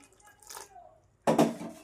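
Hot water is poured into a pan of sabudana papad batter, a brief splashing burst after a quieter stretch of faint kitchen sounds.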